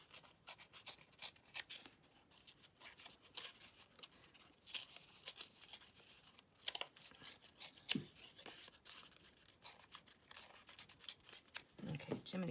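Paper is torn and handled by hand at a craft table, making soft rasping rips and rustles with irregular crackling bursts, quiet and close throughout, with no talk.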